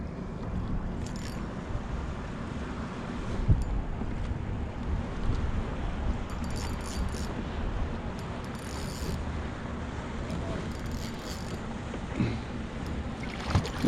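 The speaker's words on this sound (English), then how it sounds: "Gotta dodge these boats." Motorboats pass near a kayak on salt water: a steady, close rumble of engine and churning water runs throughout, mixed with gusty wind buffeting the microphone. No one speaks.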